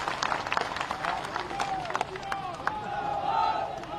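A large crowd claps and shouts at a political rally for Jyotiraditya Scindia's nomination filing, a dense roar of applause and voices that stays fairly distant and steady throughout.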